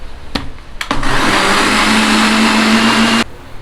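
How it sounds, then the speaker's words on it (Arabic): A couple of sharp clicks, then a blender blending chocolate sauce ingredients with sugar and cocoa roars to life and whirs steadily and loudly for a few seconds before cutting off abruptly. "بدنا نروح على الخلاط نضربهم على الخلاط ومنكمل"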